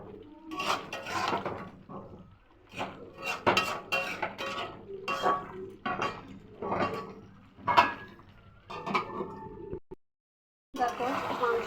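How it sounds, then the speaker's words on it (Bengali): Potatoes tumble into a cooking pot of meat, a close run of irregular clattering knocks and bumps against the pot, broken by a brief silence before a final burst. "এতে আলু দেওয়া হয়নি, আলুগুলো আমি ঢেলে দিলাম"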